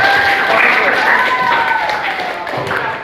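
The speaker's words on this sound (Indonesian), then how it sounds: "Silakan beri tepuk tangan kepada kelompok." A chemistry class gives a group of students a short round of applause, scattered clapping heard close by with voices chattering through it.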